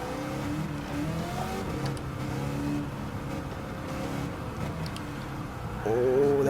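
A Willys Jeep races in Gran Turismo 7, its engine a continuous steady drone that swells into a harder rev near the end, with no talking.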